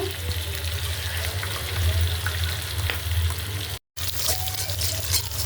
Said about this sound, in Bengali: তো আমি ডিমগুলো এভাবে একটু ভাজিয়ে নিতেছি